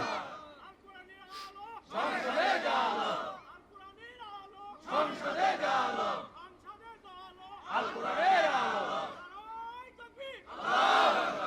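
A large crowd at a rally shouts a takbir chant in call-and-response, with several loud collective roars alternating with a lone voice leading between them.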